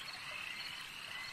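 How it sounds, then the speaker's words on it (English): Continuous frog croaking fills the air alongside a soft, steady wash of gentle stream water, calm and evenly loud throughout with no voices. "You may hear the sounds of the frog croaking in the background"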